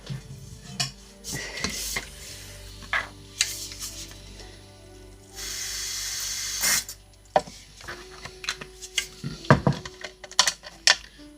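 Water is spritzed into a dry silver glitter foam: a short hissing spray burst stands out amid scattered clinks and taps of tools and containers, close by and without speech.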